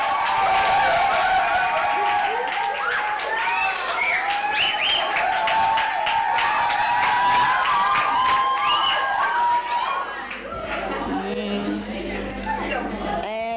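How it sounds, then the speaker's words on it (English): Audience at a global citizen summit applauds and cheers in a steady, dense wash of clapping with shouts and chatter, loud and sustained before thinning toward the end, with a voice speaking over it. "Give him a round of applause."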